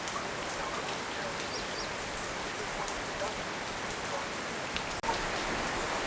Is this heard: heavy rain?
yes